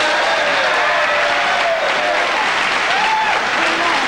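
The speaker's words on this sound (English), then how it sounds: "Was that applause from the heart or from the sign?" Studio audience applause on a late-night television talk show, a dense, steady wash of clapping that fills the whole stretch at full volume, close and continuous with no talk over it.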